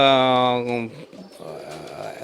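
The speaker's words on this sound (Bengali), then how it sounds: "আমার খামারে এখন অনেকগুলো কবুতর হয়ে গেছে" Soft coos from a farm of about 200 free-range local pigeons sound under a voice, with a steady hum of birds continuing after the talking drops away.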